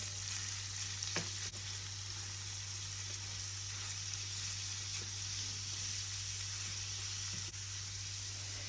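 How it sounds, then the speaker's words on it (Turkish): Half a kilo of lean minced meat fries in melted tail fat in a pan, giving an even, continuous hiss and sizzle with a few faint clicks, no voices. "Şimdi erimiş olan kuyruk yağının içerisine yarım kilo yağsız kıymayı ekliyorum ve kıymada topak kalmayacak şekilde ezerek hazırlıyorum."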